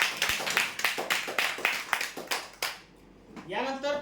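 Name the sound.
applause for prize winners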